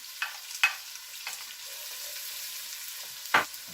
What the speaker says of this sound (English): I'm going to go ahead and put that in first. You want them to soften.